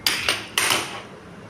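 Roasted spices are coarsely ground dry on a stone shil-nora for mango pickle, heard as three or four sharp knocking, scraping strokes close up that fade into quiet.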